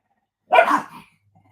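Dogs barking indoors, a single short burst of loud, close barks in the middle of an otherwise quiet moment.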